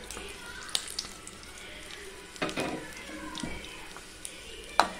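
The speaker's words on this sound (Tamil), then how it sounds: "நம்ம லைட்டாக அதை வதக்கி விட்டுக்கலாங்க." Red chillies, tamarind and ginger sautéed in a pan give a soft, steady sizzle, broken by a few sharp stirring scrapes and clinks near the middle and end.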